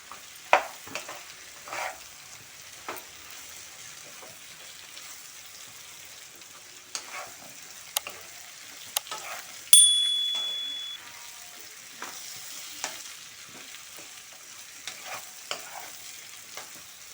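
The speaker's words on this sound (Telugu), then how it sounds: "ఈ సాల్ట్లో ఈ పోపులో వంకాయ కొంచెం మగ్గనిద్దాము" Quiet sizzling of eggplant frying in a pan with scattered scrapes and taps of a utensil stirring, including one sharper clink partway through, no speech.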